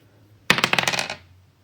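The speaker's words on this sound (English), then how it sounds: "So I will go ahead and roll the dice now" Dice tumble onto a hard surface in a quick burst of close clattering clicks, rattling for about half a second before settling into silence.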